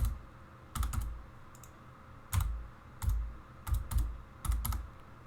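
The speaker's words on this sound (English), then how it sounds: "So I'm just going to type in here. Enter a very, very secure password." Keys clatter on a computer keyboard as a password is typed into an operating system installer, short clustered bursts of clicks with brief pauses between them, close and alone.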